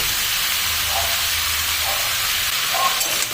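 Spices with a little turmeric frying in hot oil for raw mango pickle: a steady, loud, close sizzling hiss that fills the whole stretch without break.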